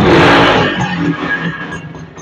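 A used second-hand Honda motorcycle, said to need oil mixed with the fuel, has its engine revved hard close by, a loud roar that eases and fades over about two seconds, with no talking.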